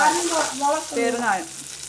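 Curry leaves and dried red chilies crackle and sizzle briefly in hot oil, close and fairly loud.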